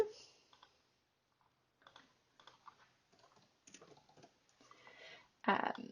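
Typing on a computer keyboard: bursts of quick, close key clicks in short irregular runs with pauses between, ending in a louder flurry of keystrokes.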